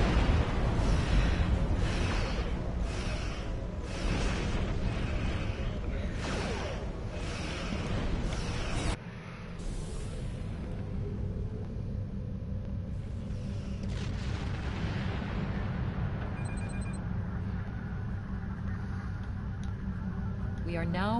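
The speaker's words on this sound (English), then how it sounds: "Well, that was quite an explosion." A starship explodes in Star Trek Online, a loud, sustained roaring blast with rhythmic booming pulses for several seconds, then a lower, continuing rumble that fades slowly.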